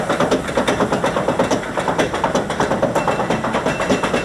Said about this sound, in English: Chugging away, Becky.